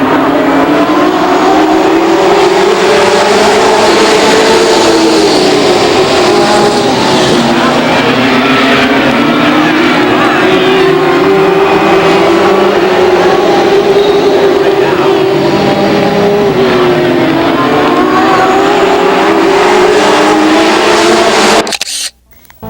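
Late model stock cars racing at Lake Geneva Raceway in 1993, with a loud, continuous engine roar whose pitch rises and falls as the pack circles the track, lasting until a sudden cutoff at the end.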